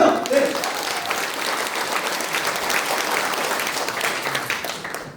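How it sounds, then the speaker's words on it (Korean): An audience at a product presentation for a phone breaks into sustained, dense applause. Brief voices are heard at the very start, then the clapping runs steadily and fades a little at the close. "박수 한번 주세요."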